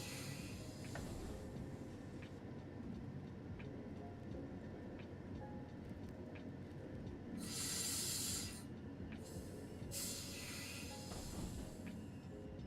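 Train running in Train Sim World 6, a steady low rumble of wheels and engine throughout with two loud hissing bursts of air near the end.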